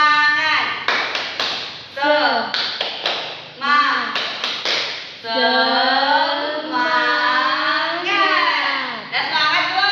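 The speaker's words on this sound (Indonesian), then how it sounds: "Yuk, mari berdiri semuanya. Tepuk semangat." A classroom of children performs a rhythmic clapping chant, with sharp groups of hand claps that break into loud sung and shouted phrases. Their voices dominate the middle and end, and the claps fall between the chanted words.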